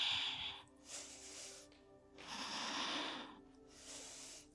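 Slow, controlled breaths during a vinyasa yoga flow, three long airy exhales and inhales rising and falling close to the microphone in a quiet room, with no talking.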